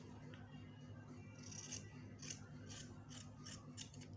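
Scissors cutting through fabric pattern pieces for a palazzo jumpsuit, a series of soft crisp snips roughly every half second, close and fairly quiet over a low steady background hum.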